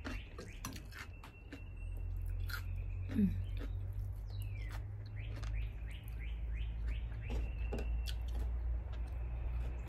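Wild birds sing outdoors, including a cardinal and a blue jay, with repeated chirps and short whistled calls scattered throughout at moderate distance over a steady low rumble of background noise.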